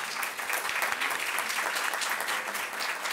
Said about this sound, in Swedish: Vi börjar med en stor applåd för detta faktum.